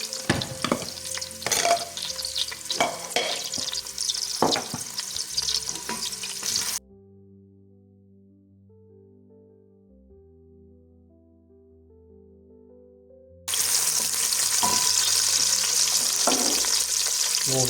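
Garlic sizzles and crackles in a pot while making a tomato chili chutney with peanuts, with stirring scrapes. It drops to a quiet lull with soft tones, then the loud sizzling returns.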